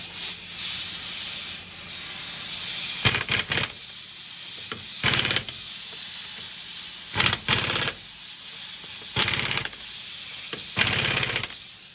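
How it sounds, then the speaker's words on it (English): A pneumatic air impact gun tightens lug nuts on a 2017 Subaru Crosstrek front wheel, set to its lightest setting, firing in five loud rattling bursts of about half a second each, separated by a steady compressor hiss. "I'm going to torque these a little bit using the air gun."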